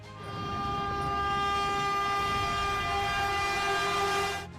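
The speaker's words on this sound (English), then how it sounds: "his bike got smashed into pieces by the oncoming Rajdhani Express train" The Rajdhani Express train sounds its horn while passing, a loud, sustained multi-tone blare lasting about four seconds over rumbling wheels, close by and with no voices.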